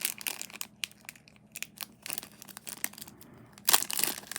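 Plastic packaging from a 2024 Pokemon card game holiday advent calendar crinkles and crackles close up in a run of irregular bursts, ending in a louder tearing rustle.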